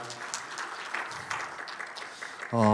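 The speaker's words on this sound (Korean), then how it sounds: "큰 박수로 환영해 주십시오" Audience applause welcoming a presenter at a KISA cyber-threat policy research results event, a steady broadband patter of many hands clapping that continues through the clip before a voice begins at the end.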